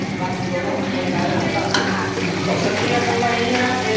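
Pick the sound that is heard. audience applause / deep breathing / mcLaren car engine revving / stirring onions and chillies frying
stirring onions and chillies frying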